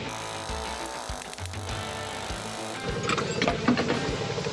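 Bushings are pressed into the main opener arm pivot of a John Deere 1890 with a new pressing tool: close, fairly quiet metallic knocks and clunks, then a denser, brighter grinding-scraping stretch toward the end, with no talk.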